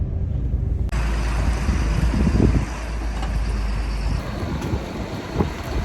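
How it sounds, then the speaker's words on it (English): Strong outdoor wind roars steadily as a broad, rushing buffet across the microphone, loud and continuous with low rumbling gusts and no talking. "the wind is pretty legit today"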